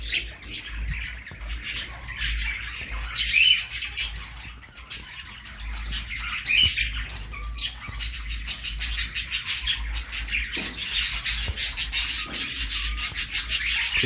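Cockatiels and budgerigars in an aviary keep up a dense, continuous chatter of chirps, squawks and raspy calls, fairly close and steady throughout with no talking.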